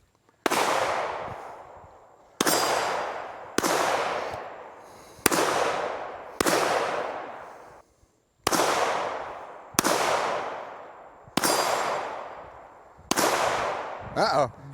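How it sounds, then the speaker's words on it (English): Gunshots from a 5.7 firearm fired at a clasp, about ten sharp loud reports spaced roughly a second or two apart, each with a decaying outdoor echo. "Somebody trying to shoot the clasp off."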